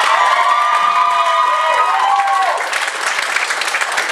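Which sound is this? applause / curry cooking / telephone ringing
applause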